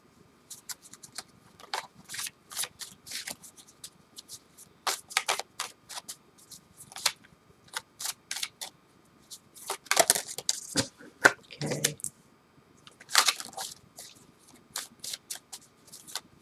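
Tarot cards are shuffled by hand in close, crisp bursts of riffling and flicking, irregular and repeated throughout with short quiet gaps between.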